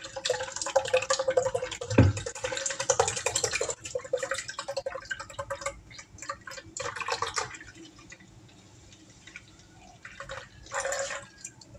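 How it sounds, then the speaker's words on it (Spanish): Milk poured into a cooking pot for Panamanian rice pudding with pineapple, giving a continuous liquid splashing and trickling with dripping, fading and returning in bursts over steady background noise. "aquí voy a echarle la leche ideal"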